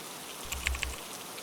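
Steady rain patters on a surface as a soft, even hiss, with a few slightly louder drops in the middle and no voices.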